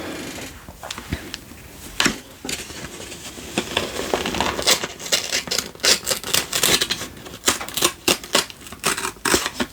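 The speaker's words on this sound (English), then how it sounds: "let's get the scissors out" Scissors snip and crunch through a plastic-wrapped parcel, a series of close, crisp cuts and rustles that start sparse and grow busier toward the end, with no one talking.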